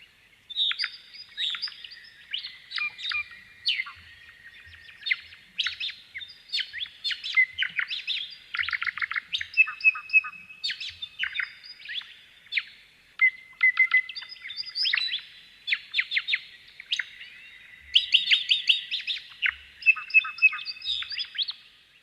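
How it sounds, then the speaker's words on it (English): Two white-fronted honeyeaters call in a duet, trading rapid bright chirps and trilled phrases in dense, continuous bursts against a quiet background. "So just a short example of two birds, these two white-fronted honeyeaters."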